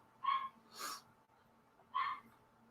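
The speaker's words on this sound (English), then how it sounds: "Neighbor's dogs are out." A neighbour's two dogs along a fence line make a few brief, faint yelps or whimpers at a distance, separated by short pauses, with no talking.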